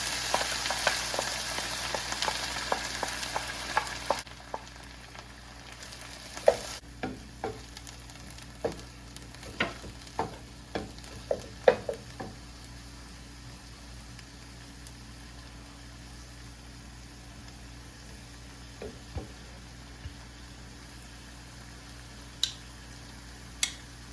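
Red chili and meat stir-fried in a pan, a soft hiss of frying at first that fades, then a series of distinct taps and clicks of a utensil against the pan, quiet and close.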